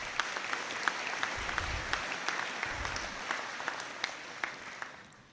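An audience at a college conferring ceremony applauds graduates with sustained, dense clapping that holds steady for several seconds before tapering off at the end.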